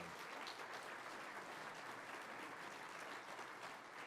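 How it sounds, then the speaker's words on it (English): Steady applause from a conference audience honoring city councilors at an awards night, a dense, even wash of clapping held at constant loudness throughout, heard faintly at a distance with no voices over it. "Please give them a round of applause."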